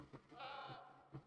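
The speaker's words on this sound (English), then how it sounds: "Sheep" A sheep bleats in the survival video game SCUM, a single faint, drawn-out wavering cry heard at a distance over a low ambient background.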